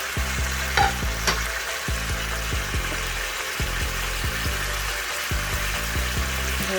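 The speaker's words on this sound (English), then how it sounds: "we're gonna put the eggplant and the string beans" Eggplant and string beans frying in a pan for Filipino pinakbet, a steady loud sizzle with repeated scraping stirs of a utensil against the pan, no talking.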